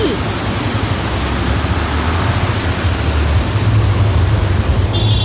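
Water from a stream at Guru Goda Oya in Sri Lanka rushes loudly and continuously, a dense roaring wash close by that fills the scene without letting up.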